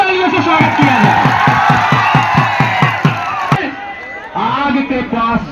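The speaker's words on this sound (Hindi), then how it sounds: "एक बार जोरदार तालियों से स्वागत किया जाए।" Crowd at an Indian kushti wrestling bout cheers and shouts loudly, with rhythmic chanting or clapping beats through the first half, then a noisy mix of voices and yells close by.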